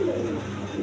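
A male pigeon coos near and clear in one brief, low, throaty phrase after a hen is released beside him.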